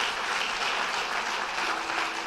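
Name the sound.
congregation applause in church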